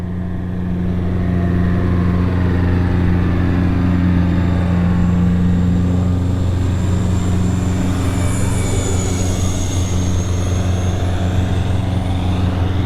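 An X-Fly F-15 radio-controlled jet with twin 40mm electric ducted fans flies overhead, giving a steady loud whine and drone that holds continuously, with rising and falling pitch sweeping through it as it passes.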